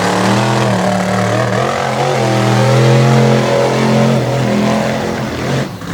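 An Overkill Evolution Ford drag racing car engine roars loudly and continuously through a pass, its pitch rising and wavering as it pulls hard down the track.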